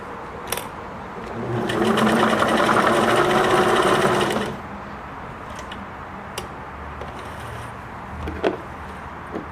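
A Singer Merritt 2404 sewing machine stitches in a steady whirring burst of about three seconds, with scattered clicks and taps before and after, close and fairly loud, no talking.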